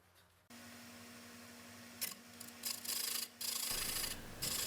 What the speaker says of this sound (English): I'm using my round nose scraper this time.